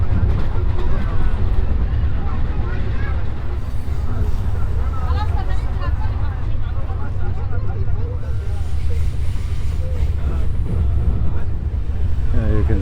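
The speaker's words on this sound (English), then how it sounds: "You can see our train there." A passenger train running from Qena to Aswan in Egypt gives a steady, loud low rumble and clatter throughout, with people talking nearby.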